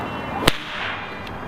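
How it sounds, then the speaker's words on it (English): A small nylon whip gives one sharp, loud crack, a sudden snap that cuts through quiet room noise, followed by a fainter second crack about a second later. "Never thought I'd get that kind of noise out of a little whip like that."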